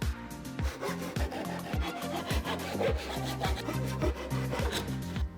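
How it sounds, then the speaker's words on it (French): A hand saw cuts through wooden pallet slats in quick, regular back-and-forth strokes, each stroke a rasping rub, close and steady. "on va venir couper ces 3 lattes et couper juste ici"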